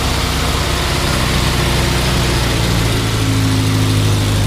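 A 1961 Morris Minor Series III quarter-ton pickup engine running on choke, a loud, steady low rumble at a fairly even idle, close up with no talk.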